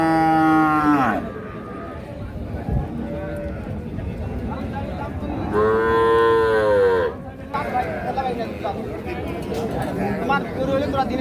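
Two-tooth age local dairy cows at a rural cattle market, with loud close moos at the start and again mid-clip and a lower, fainter lowing later, over a busy background of crowd chatter.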